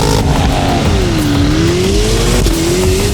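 A 2025 Corvette ZR1 engine howls hard under acceleration, its pitch climbing, dipping and rising again through gear changes, loud and close, with no talk.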